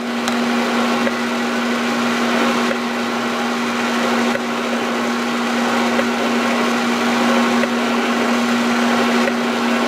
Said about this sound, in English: I'm just cranking the table straight up, and I'm giving a little bit of cutting oil here.